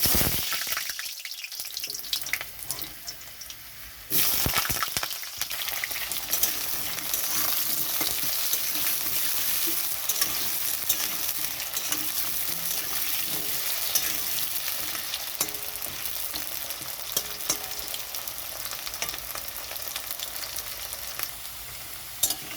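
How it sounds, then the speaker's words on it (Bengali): Potatoes drop into hot mustard oil in a wok, and after a short quieter gap a loud, steady sizzle takes over, with occasional stirring scrapes running through the continuous frying crackle. "কড়াইতে সর্ষের তেল দিয়েছি, সর্ষের তেলটা গরম হয়ে গেছে। তো এখানে আমি দিয়ে দিচ্ছি প্রথমে আলুগুলো"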